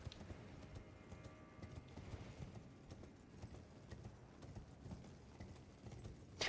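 Horse hooves clip-clop steadily through a video game, a continuous rhythmic trotting at moderate volume under a dense, busy game soundscape, with a brief louder burst near the end.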